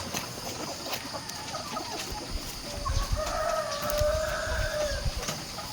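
A sick chicken with prolapse gives a drawn-out crowing call midway, moderately loud against steady outdoor background noise and faint low rumbles.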